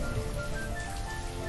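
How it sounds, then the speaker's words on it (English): Steady rain falls in the video game Banished, a continuous dense hiss of drops on surfaces with a soft tonal game background underneath and no pauses. "even if it's kind of raining in this game"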